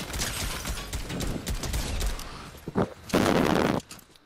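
Semi-automatic sniper rifle fire in a video game: a string of sharp close shots and mechanical clicks, ending in a louder sustained burst of gunfire.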